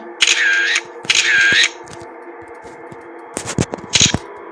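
A camera clicks through a few shots during a walk through an abandoned building: two longer whirring shutter bursts close together, then a quieter pause and a quick cluster of sharp clicks near the end.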